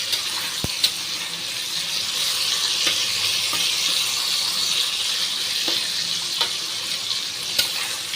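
Food fries in a pan with a constant bright sizzle and hiss. A few sharp clicks from a utensil cut through the sizzle.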